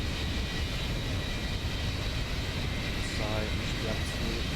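A Ryanair Boeing 737 climbs after takeoff in the X-Plane 11 flight simulator, with a steady roaring engine drone and a faint tonal whine, plus a few brief chirps near the end.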